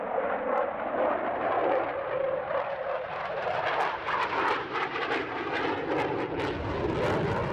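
A Draken jet fighter, first flown in 1955, flies past at the 2018 Jersey International Air Display. Its engine makes a loud, steady roar that fills the whole stretch, with no voices heard.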